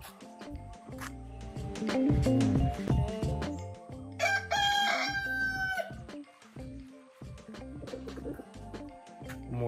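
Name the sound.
rooster crowing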